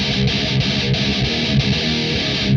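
Death metal guitar through a This Heavy Earth Flesh Rot amp sim miked with a Ribbon 121: dense, heavily distorted low chugging riffs with rapid palm-muted rhythm, loud and continuous with no talking.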